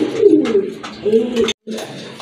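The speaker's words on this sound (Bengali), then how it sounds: "দেখেন কবুতরের ডাক, অসাধারণ এক জোড়া কবুতর" A pair of pigeons for sale coo up close in repeated low, throaty bursts, with a brief drop to silence before the cooing resumes.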